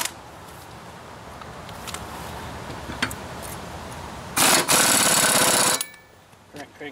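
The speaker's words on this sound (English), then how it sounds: "Okay, let's crank these on." A power tool cranks bolts onto Deere farm equipment during repair work, a loud continuous mechanical burst lasting about a second and a half against a quiet background with a few faint ticks.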